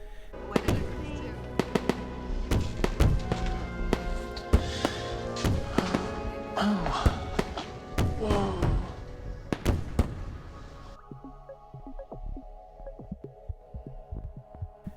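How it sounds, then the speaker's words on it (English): Fireworks boom and crackle in a rapid irregular series of sharp bangs over a low hum, thinning out toward the end. "There are fireworks. They boom a message in Morse code."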